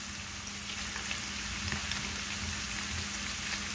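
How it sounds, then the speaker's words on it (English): Bite-size pieces of smoked sausage sauté in a pan, producing an even, close frying hiss and crackle that holds steady for a few seconds with no voices. "Just sauteing it."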